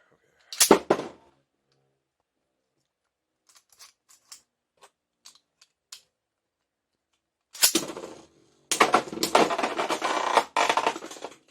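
Beyblade spinning tops launch and collide in a stadium with sharp plastic clacks and scrapes: one burst early, a few faint ticks, then two dense rattling bursts close by.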